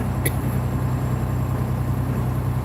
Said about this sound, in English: Do I need to shut the truck off?